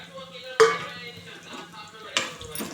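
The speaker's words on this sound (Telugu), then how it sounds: "ఇలా మంచిగా ఫ్రై చేసుకోండి, బ్రౌన్ కలర్ వచ్చే వరకు." Dried chillies and fenugreek leaves frying in a pan for a roti pachadi, stirred with a utensil: two sharp scraping clinks against the pan stand out over a low, steady sizzle, close and fairly quiet.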